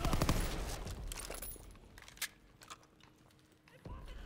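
Rapid World War II-era gunfire in the Call of Duty WWII campaign, a dense burst of shots early on that thins into scattered single reports and faint bangs, fairly quiet in the mix.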